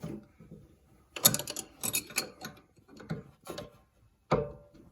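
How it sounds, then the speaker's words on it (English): A spanner clicks and ratchets against the lower ring of BC Racing coilovers on a 2002-2006 Acura RSX, giving several short metallic bursts of turning and clanking at close range, then a final sharp knock. "so we're going to put the spanner on. We're going to tighten this lower ring"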